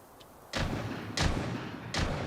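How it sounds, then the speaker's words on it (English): Gunshots in the video game Rainbow Six Siege: three heavy booming shots spaced unevenly, each with a sharp attack and a rumbling tail over steady background noise. "Gunshots rang out."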